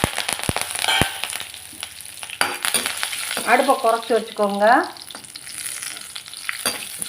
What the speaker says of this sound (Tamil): நல்லா பொரிஞ்சு வரட்டும்.